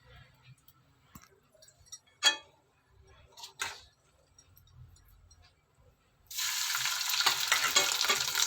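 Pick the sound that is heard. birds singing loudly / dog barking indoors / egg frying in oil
egg frying in oil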